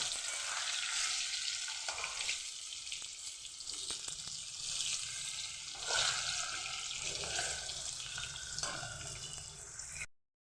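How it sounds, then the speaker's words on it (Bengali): Steady sizzling of potatoes frying in hot oil with turmeric until browned, for a mutton and potato curry, with occasional stirring and clinks of a utensil, continuous and close by with no talking. "ভালোভাবে লাল করে ভেজে নেব"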